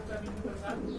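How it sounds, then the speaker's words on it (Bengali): A pair of pencil-breed pigeons, including white pencils, coo in soft low throaty bursts close by, mixed with someone talking over them. "এখানে বন্ধুরা আরেক জোড়া কবুতর দেখতে পাচ্ছেন"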